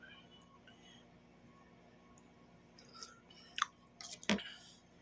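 Close, quiet chewing and slurping with a few sharp, wet bursts toward the end, set against a soft background hum.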